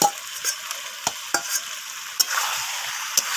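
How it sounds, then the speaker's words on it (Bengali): Squash is stir-fried with chicken curry in a pan: soft sizzling under repeated sharp scraping strokes and clinks of a spatula against the pan, close and moderately loud. "এই স্কোয়াশগুলোকেও চিকেনের সাথে কষিয়ে নিচ্ছি।"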